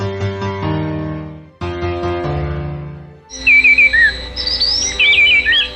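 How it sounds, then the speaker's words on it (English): A short piano phrase plays, then a wood wren sings loud, clear warbling whistles with quick rising and falling trills, close and bright. "And how about the wood wren song that sounds like Beethoven's Fifth?"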